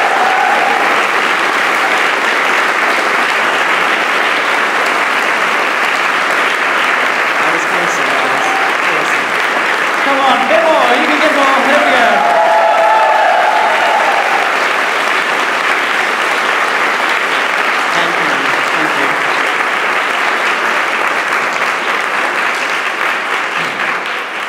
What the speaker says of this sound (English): Could you give them a big round of applause?